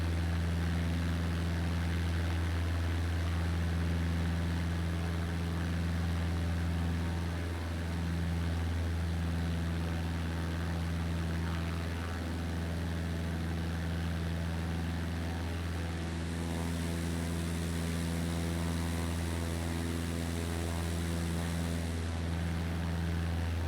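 A steady, loud propeller-aircraft engine drone from Microsoft Flight Simulator 2020 fills the cockpit during a climb over the Essequibo, its tone shifting slightly as thrust increases, with no talking throughout.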